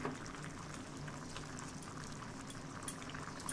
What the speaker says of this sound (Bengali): এদিকে দুধটা যে কেটে গেছে, ফেটে গেছে, আমি এখন কিন্তু একটু চিনি দিয়ে জাল দিয়ে নিচ্ছি।